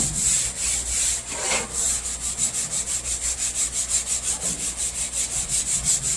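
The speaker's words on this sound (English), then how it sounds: "I'm going to scuff this down." Interior dash trim on a 1962 Mercury Comet is scuffed by hand, with rapid rhythmic rubbing strokes that speed into an even back-and-forth scraping, close and fairly loud, with no voices.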